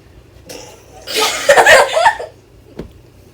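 A loud, close burp comes during a burping contest at a family birthday gathering. One throaty belch lasts about a second and is followed by a brief cough-like sound.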